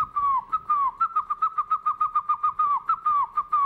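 A man on a television panel show whistles an imitation of a cuckoo call, a rapid series of clear, close whistled notes repeated in quick rhythmic bursts.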